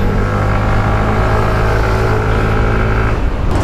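A Yamaha Mio Gear 125 scooter engine hums loudly and steadily while riding, a close, continuous motor drone with road noise and a slight drop in pitch near the end.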